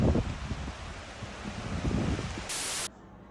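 Strong outdoor wind buffets the microphone in loud, broadband rushing gusts that swell and ease over a few seconds, with no voices.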